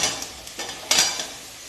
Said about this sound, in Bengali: এবার আমি এর মধ্যে মিশিয়ে দিচ্ছি ভেজে রাখা আলু